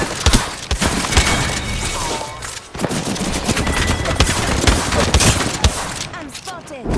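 Rapid gunfire bursts rattle loudly in an Apex Legends match, with dense overlapping shots, brief pauses and a few sharp impacts.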